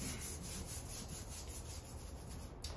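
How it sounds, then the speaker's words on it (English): A soft-bristle brush scrubs a bonsai tree trunk wet with cleaning solution, giving a steady, close rubbing and swishing that continues without a break and with no voices. "I'm just going to go ahead and clean the entire trunk, starting from the top and cleaning it all the way down"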